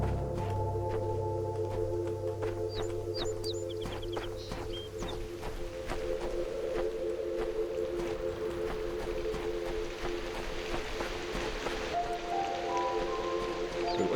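Steady rushing wash of a waterfall in the video game Talos Principle, continuous and moderately loud, with a low tone and faint scattered chimes layered over it.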